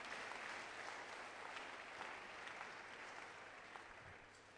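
A church congregation claps continuously at a homecoming convention, steady dense applause filling the room for several seconds with no talk over it.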